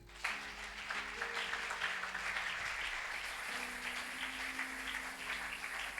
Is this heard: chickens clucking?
no